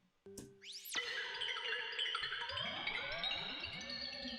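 RPG revive or healing magic effect processed through a frequency shifter: a quick upward sweep snaps into a dense, glassy shimmering wash with swirling, descending tones, sustained and faint with no voices.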